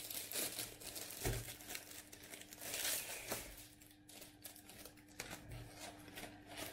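A plastic wrapper on a Gastone Lago crostatina snack crinkles and rustles as it is opened, a faint, close, irregular crackling with a few sharper tears.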